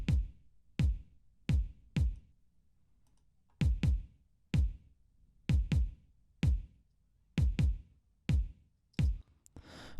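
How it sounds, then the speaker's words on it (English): Deep punchy kick drum hits, an electronic sample mixed with a real kick drum, repeat in an uneven pattern, each with a sharp attack and a short ringing reverb tail, no voices. "It's actually an electronic sample mixed with a real kick drum"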